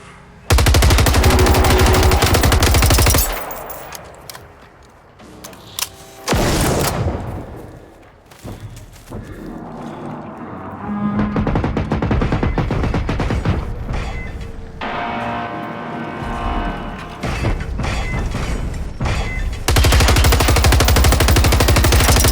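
Sustained automatic gunfire from the video game Generation Zero, loud and close, in long bursts with short gaps and heavy thumping impacts, set in 1980s Sweden against robots.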